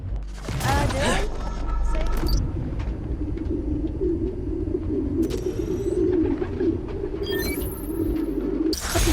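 Pigeons cooing in a city park within the video game Spider-Man: Miles Morales, a steady low murmur of soft coos running throughout, with occasional sharper bird calls and background noise over the top.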